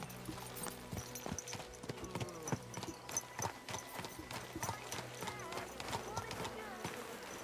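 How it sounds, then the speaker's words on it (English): Horse hooves clip-clopping steadily on a town street in the video game Kingdom Come: Deliverance II, a continuous trotting rhythm with game ambience and a faint horse snort underneath. "I'm supposed to just be riding my horse through the streets?"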